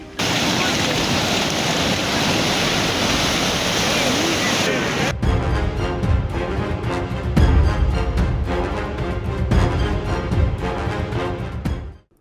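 Floodwater on the Kayalkudi river near Sivakasi, bursting its banks and rushing in a loud, constant roar for about five seconds before the sound cuts abruptly to something else.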